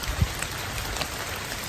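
Steady rain falling in the Blue Ridge Mountains, a dense even patter of drops on surfaces with a few slightly louder nearby hits, continuous and moderately soft with no voices.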